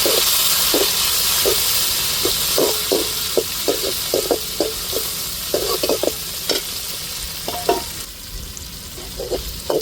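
Tomatoes and chilies drop into hot oil for a tempering while a fish curry is cooked, giving a loud, steady sizzle and hiss with repeated scraping stir strokes close by, no voices.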